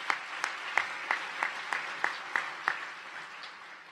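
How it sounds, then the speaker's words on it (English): An audience at the AJC Global Forum applauds. About eleven evenly spaced, fairly faint claps sound at a steady rhythm, then fade into a soft room hush. "Let's give them another round of applause."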